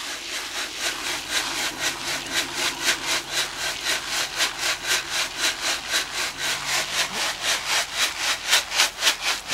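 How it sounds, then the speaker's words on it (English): Potting mix is pushed back and forth through a sifting screen onto a tarp, a steady rhythmic scraping swish of roughly three strokes per second, close and continuous. "we're just going to be sifting back onto the tarp now, since the tarp is clean"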